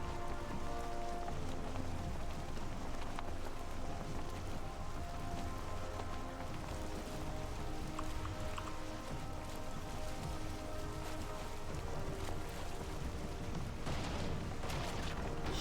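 Steady rain patters and hisses continuously in the video game Valheim, a dense, even wash of drops with faint low rumbles underneath and no talking.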